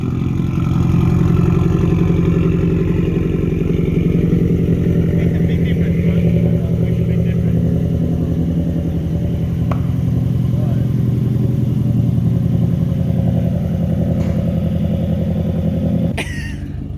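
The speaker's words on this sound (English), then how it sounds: "Oh, and I get this exhaust too." A loud, deep engine rumble from a Subaru WRX exhaust idling and revving steadily up close, with speech-like sounds under it.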